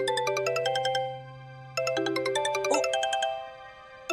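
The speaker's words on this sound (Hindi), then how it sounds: "सोसाइटी के मित्र मंडल का फोन बज रहा है" A phone rings with a bright electronic melodic ringtone in a home: two bursts of repeating chiming tones, the second starting after a short pause, clear and close with no voices.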